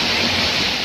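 Heavy rain pouring on a flooded highway, a loud dense hiss of water drumming and splashing with no break, close and enveloping.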